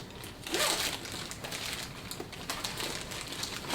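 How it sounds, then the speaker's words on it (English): A zippered compartment on a bag is unzipped with a close, rasping pull, then rustles and crinkles as the fabric is handled, all at moderate loudness and with no voices. "So let me unzip it and see what it looks like"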